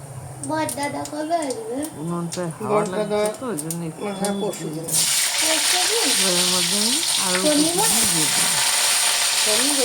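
Nuts frying in a pan with cumin seeds until golden, a steady sizzle that swells loud and broadband midway while someone talks over it throughout.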